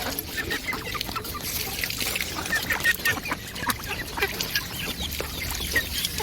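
Three-month-old ducklings on an Assam duck farm fuss noisily while eating wet feed, a busy stream of quacks, peeps and bill-clattering squabbles at moderate distance, continuous and unbroken by speech.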